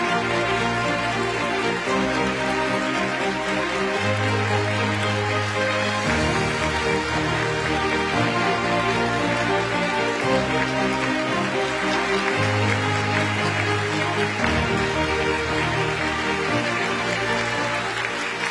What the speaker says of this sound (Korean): 계속해서 큰 박수로 환영해 주시기 바랍니다